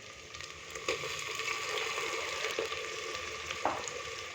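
Finely chopped tomato fries in a pan with green chilli and garlic paste, a steady close sizzle with a few sharp stirring clicks and scrapes, heard alone without voices.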